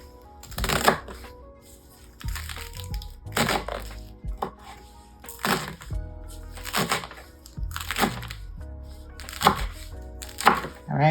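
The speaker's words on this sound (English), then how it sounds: "So chop our salad up." A knife rough-chops summer salad vegetables such as cucumbers on a board. Repeated sharp chops and cracks come in an uneven rhythm, close and clear, with faint sounds from the board and the vegetables shifting between strokes.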